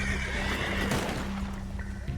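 A horse in the Red Dead Online video game lets out a loud, close whinny that lasts about two seconds, with soft hoof clip-clops underneath and no talking.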